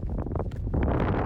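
Wind gusts outdoors in snowy Iceland buffet the microphone, producing loud, rough rumbling bursts that swell and settle over a couple of seconds, close and unsteady.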